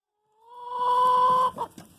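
A single hen gives a drawn-out, tonal call up close in a coop, ending in a couple of short clucks, with quiet surroundings.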